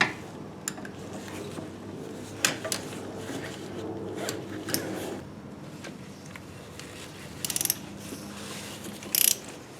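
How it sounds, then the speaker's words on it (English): A ratchet works an 11mm bolt loose on a lowered Impala front subframe, giving faint, scattered clicking bursts and short metallic ticks over a low garage hum, with a sharper cluster of clicks near the end. "It's an 11mm bolt over there. I'm going to pop that off."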